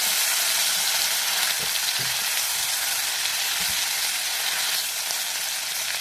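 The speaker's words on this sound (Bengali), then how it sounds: "চিংড়ি মাছগুলো আমার ভাজা হয়ে গেছে" Prawns frying in hot oil make a loud, constant hiss close by, with a few soft knocks as they are turned, and no voices.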